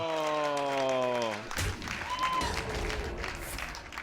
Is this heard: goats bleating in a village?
no